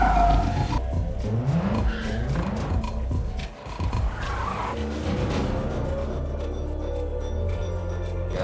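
A car speeds through a Fast and Furious film chase, its engine roaring loud and close with tire squeals and skids under a dense, continuous action soundtrack, the noise dipping briefly midway before surging back.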